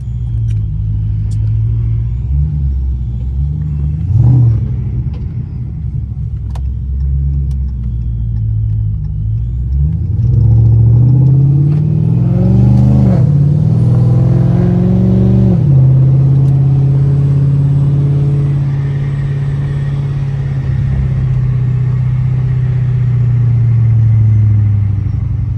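Supercharged Chrysler 300C V8 revs hard and accelerates, engine note climbing in rising sweeps then holding a loud steady drone, close and continuous with no talk.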